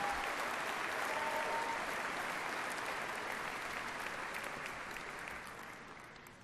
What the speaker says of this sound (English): please join me in a round of applause for the people of this great,